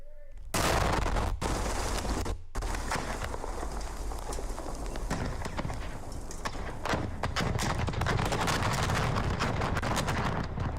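Recorded explosion in Afghanistan played back: a sudden loud blast followed by a sustained rumbling roar broken by sharp cracks, with secondary bangs and rattling debris continuing throughout.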